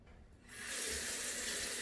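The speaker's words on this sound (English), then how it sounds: "I can hear the sound of running water" Water runs from a tap, starting quietly and swelling after a moment into a steady, full rush of flowing water with nothing else heard.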